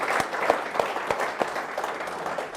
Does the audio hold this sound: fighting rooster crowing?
no